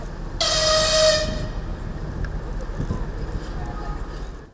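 The Usinsk–Syktyvkar passenger train sounds a loud, sustained horn blast of about a second as it pulls into a station platform in Komi, followed by the steady low rumble of the arriving train.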